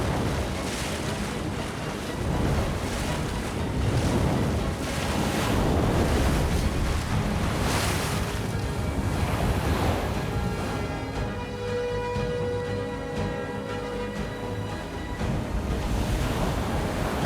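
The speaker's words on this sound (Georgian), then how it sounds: "ზამთრის შტორმი ზღვას მეტისმეტად აფორიაქებს" Stormy winter waves on the cold northern Pacific off the California coast, a loud continuous roar of surf with wind buffeting the microphone and no voices.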